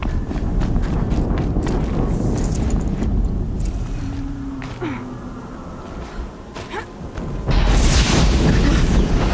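Explosions in the video game Horizon Zero Dawn, a sustained loud rumbling roar that swells again into a fresh burst near the end, with faint game sounds layered over it.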